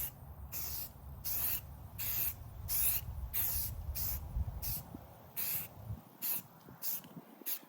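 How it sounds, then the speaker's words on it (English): Repeated hissing bursts of a spray paint can laying khaki paint onto an AR-15 rifle, about a dozen short sprays in an irregular rhythm, close and fairly loud over a low background rumble. "I'm just gonna spray paint here and there."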